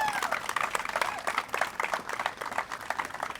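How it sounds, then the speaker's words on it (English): A crowd at a downtown Main Street press conference in Indianola claps steadily for several seconds, a dense, even patter of many hands heard from within the audience. "that deserves applause"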